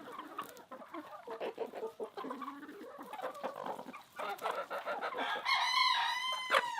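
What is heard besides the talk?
chickens clucking in coop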